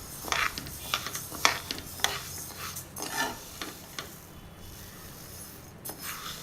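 Urad dal roasting dry in a pan for Andhra-style sweet ladoo, stirred in short, uneven bursts of scraping and rustling over a quiet background hiss, close by and fairly soft.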